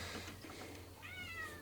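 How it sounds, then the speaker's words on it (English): A cat meows once, close by, a rising drawn-out call near the end of a quiet moment in a garage workspace, with faint background hum and no talking. "What do you want, cat?"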